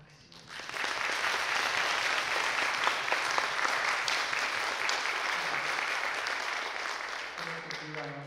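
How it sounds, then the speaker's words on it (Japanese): Sustained audience applause following a winter concert performance, a dense steady wash of clapping that swells in quickly, holds for several seconds, then tapers as a host begins speaking near the end. "もう一度鈴木さんに大きな拍手を。"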